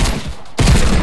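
Gunfire in the video game Fortnite: a dense, loud barrage of shots that drops off for a brief lull partway through, then resumes just as heavily.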